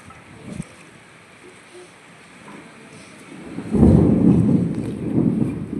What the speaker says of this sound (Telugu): డాడీ ఉరుముతుంది ఇంకా రా పోదాం